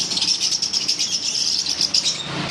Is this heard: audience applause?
no